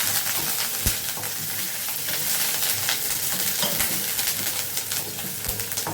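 Onion, green chili and curry leaves sizzle and crackle in a hot pan with steady frying noise, punctuated by sharp clinks of a spoon stirring against the metal.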